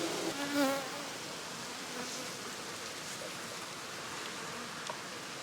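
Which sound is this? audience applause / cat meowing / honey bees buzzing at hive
honey bees buzzing at hive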